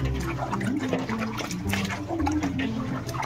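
Hands stirring 56 kg of chicken breast pieces in a large tub of plain water marinade, steady sloshing and splashing liquid with wet churning throughout, fairly close.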